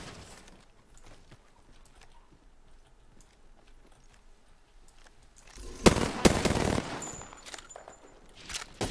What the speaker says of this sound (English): Pretty sure someone's got a shot on me.